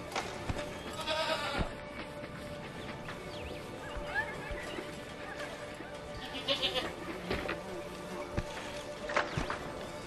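Goats bleating in the video game Homefront, several wavering cries scattered over ten seconds amid farmyard ambience with faint knocks and shuffles, alongside character dialogue.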